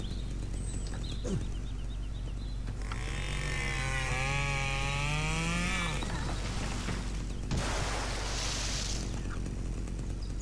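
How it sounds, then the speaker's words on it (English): In the video game Open Season, a chainsaw runs steadily in the background as a continuous drone, with a voice-like sweeping tone and a burst of hiss layered over it midway. "Just follow the chainsaw."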